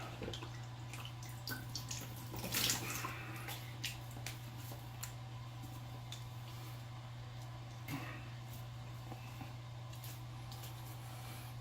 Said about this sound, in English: Go ahead and rinse this off.